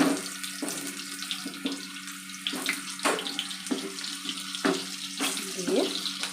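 Potato pieces fry in hot oil for a chicken and potato curry, a continuous close hiss broken by sharp crackles and pops at irregular intervals.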